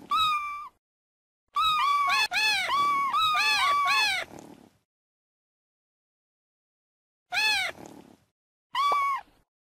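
A kitten meows repeatedly in the CBeebies My Pet and Me game, clear close cartoonish calls in a quick cluster of several meows followed by a pause and two more, with no voices.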